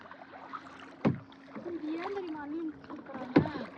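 A kayak paddle dips and splashes on water at Hatta in the mountains, with two distinct close strokes against a quiet outdoor background while people talk softly nearby.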